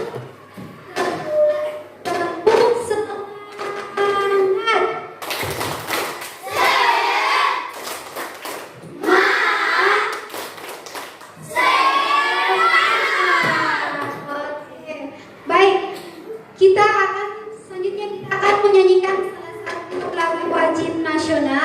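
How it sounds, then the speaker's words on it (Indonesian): Schoolchildren in a classroom perform a lively clapping chant, bursts of rhythmic hand claps and shouted voices alternating in several loud sections, with a teacher's speech between them. "Ayo kita tepuk semangat."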